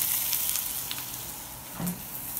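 Onions cook on a grill beside a flank steak with a soft, steady sizzle at moderate distance, plus a brief louder spatter near the end.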